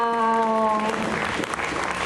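Audience at a Montreal fan convention clapping for the costume staff, steady broadband applause that follows a sustained voiced exclamation, continuing at an even moderate level with crowd murmur underneath.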